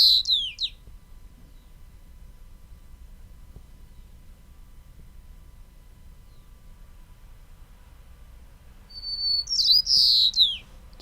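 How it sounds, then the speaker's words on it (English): Played recording of a typical white-crowned sparrow song, a brief high whistled phrase at the start and a longer complex trilled phrase near the end, separated by a stretch of quiet hiss. "So that's a normal white-crowned sparrow song."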